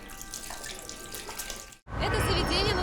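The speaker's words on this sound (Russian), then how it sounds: "О, у вас есть кран." Water gushes from a tap in a Rome street setting. Busy ambient noise comes first, then a brief drop before the steady, loud splashing stream takes over close to the microphone.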